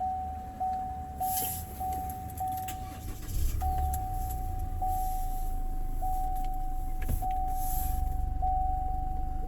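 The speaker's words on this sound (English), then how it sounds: "we're going to use the key and start her up" A 2019 Chevrolet Colorado Duramax Z71 is started with the key: a repeating electronic chime sounds, then the engine catches and settles into a steady low rumbling idle beneath the continuing chimes.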